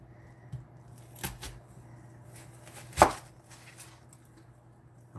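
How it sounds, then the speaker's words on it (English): A knife chops through an onion on a cutting board, a few sparse cuts with one sharp, louder chop standing out against a quiet kitchen background. "Just literally cut through it, keep it closed, and just keep cutting it across."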